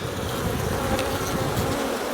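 Honey bees from an opened hive during a spring inspection, as a frame is eased up from the box: a steady, dense, close buzzing hum that holds evenly throughout, with no voices.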